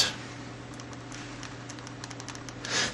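Light, quick keystrokes on the compact keyboard of a Raon Digital Everun handheld computer, a faint rapid patter of a dozen or so taps over a few seconds.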